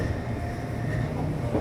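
Low, continuous rumble of a moving train to Mainz heard from inside, with a steady drone and faint rattling, no one talking.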